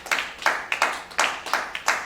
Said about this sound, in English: So put your hands together for PWAN.